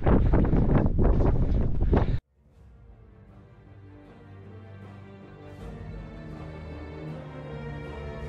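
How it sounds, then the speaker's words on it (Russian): Wind gusting through a mountain gorge near the hillside necropolis of Dargavs in North Ostetia, loud buffeting across the microphone for two seconds, then a quieter steady airy background with faint tonal hum. "В этом ущелье всегда есть ветер."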